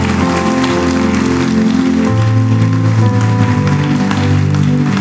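Church congregation applauding during a service, dense rain-like clapping over sustained music or organ tones, continuous and loud throughout.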